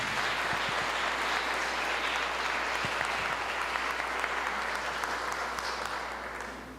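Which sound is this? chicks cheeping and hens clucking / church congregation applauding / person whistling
church congregation applauding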